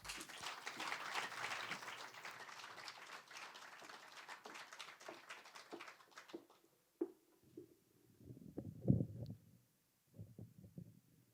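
Audience applause for a performer at a recitation competition in Wrocław, fairly faint and distant, a steady patter of clapping that thins out and dies away into a few scattered claps and small noises.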